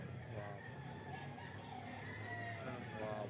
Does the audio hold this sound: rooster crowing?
yes